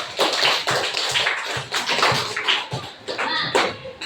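Students clapping in a classroom lesson, a burst of rapid, uneven hand claps from many people close by, sustained loudly for several seconds with a few brief dips.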